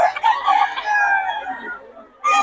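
A rooster crows in a long, drawn-out call, loud and close, followed by the start of another crow.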